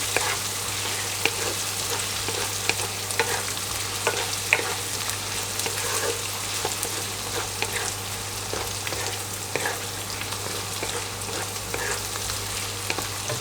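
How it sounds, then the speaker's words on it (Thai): Pork belly stir-fried with chili and garlic in oil gives a steady, dense sizzle with a continuous crackle and scattered pops, close and fairly loud throughout, with no talking. "เอา พริกกระเทียมครับใส่ลงไปผัดเลย"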